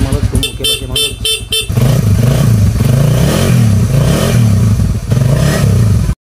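A Suzuki Raider motorcycle, freshly serviced with new oil and oil filter, idles then revs loudly and steadily at close range, the engine drone filling the clip after a brief burst of choppy, stuttering noise at the start.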